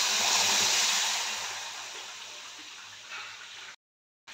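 Water pours steadily into a pan to make syrup for pitha, a loud rushing splash that gradually softens before stopping abruptly.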